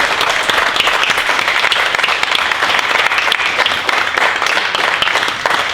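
A church congregation at a Sunday morning worship service gives a sustained, dense round of applause for Caleb, many hands clapping steadily and loudly throughout with no letup.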